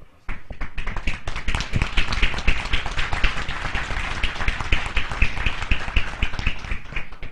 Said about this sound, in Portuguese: bater palma para quem veio para o debate